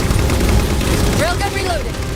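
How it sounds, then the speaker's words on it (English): A railgun firing at phantoms in Halo 4 amid a constant wash of loud battle noise, with dense gunfire and booms and a brief sweeping electronic whine near the middle. "Target those phantoms for the railgun to shoot down."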